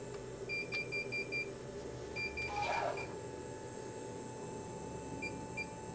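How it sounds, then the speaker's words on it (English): An M2 direct-to-garment printer draws a shirt into the machine, heard as a steady mechanical hum with repeated electronic beeps and a brief whirring burst partway through, no one talking. "it'll draw the shirt into the machine until it gets to the ready position."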